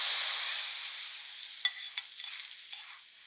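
A hot tempering of mustard seeds, shallots, curry leaves and dried chilli is poured into a taro and dried fish curry, a loud hissing sizzle that slowly fades as a few spatters pop.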